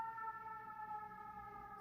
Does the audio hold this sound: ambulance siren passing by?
yes